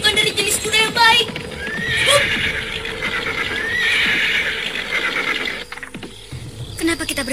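A horse whinnies loudly and at length amid clip-clopping hooves and creaking tack in a historical drama scene, with voices speaking over it.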